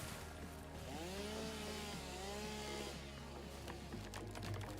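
A chainsaw in the video game Satisfactory runs steadily, its loud buzzing engine note rising and falling in a few revving sweeps.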